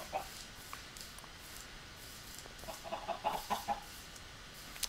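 Minecraft chickens cluck softly under steady game ambience, a few scattered calls early and a livelier cluster of quiet clucks toward the end, with no talking.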